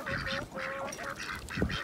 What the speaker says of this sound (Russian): Уточки купаются.